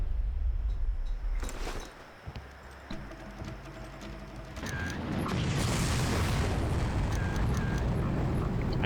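A rocket launcher fired from a prone position in the video game Far Cry, giving a booming blast followed by a long, loud rumbling roar of the explosion and debris, with no talking.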